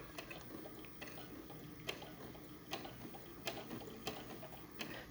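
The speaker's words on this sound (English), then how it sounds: "I'm gonna attempt to start sewing with one hand." A sewing machine stitching pop-up camper cushion covers, heard as a faint, steady mechanical whir with a regular ticking, plus a few sharper clicks spaced about a second apart.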